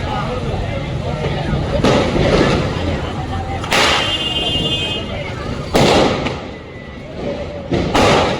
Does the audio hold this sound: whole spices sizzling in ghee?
no